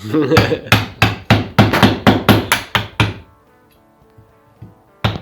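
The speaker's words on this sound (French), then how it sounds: "Le marteau et le ciseau à bois vont permettre de faire sauter le bois restant entre les trous faits à la perceuse." About a dozen sharp hammer blows strike a wood chisel, clearing wood between drilled holes in a Telecaster guitar body, in a steady rhythm, then stop; one more knock lands after a short pause.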